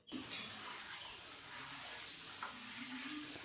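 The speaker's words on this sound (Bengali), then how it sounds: "এবার হাঁড়িতে জল ঢালা হচ্ছে।" Water is poured into a cooking pot set on the heat on a Saraswati Puja morning, a faint, steady rushing wash that runs unbroken for a few seconds.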